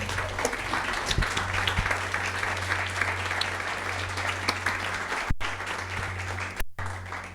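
A church congregation applauds steadily through the whole stretch, dense clapping close and loud, with a few brief gaps near the end and faint voices underneath.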